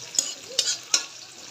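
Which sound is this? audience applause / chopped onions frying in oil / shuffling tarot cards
chopped onions frying in oil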